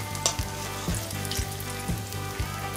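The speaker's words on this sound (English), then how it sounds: "So this is the last batch of accras or fritters, so I'm just gonna finish frying them out" Saltfish fritters (accras) fry in hot oil with a steady, soft sizzle and regular bubbling pops about every half second, close up and quiet, with no talking.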